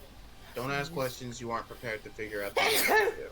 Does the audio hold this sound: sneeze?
yes